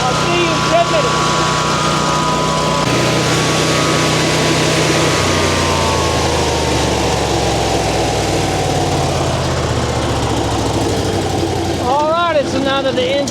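A MechMaxx B200 wood chipper engine, choke on and throttle low, runs loud and close with a steady low drone that shifts pitch downward partway through, then a brief higher whine near the end, with no talking.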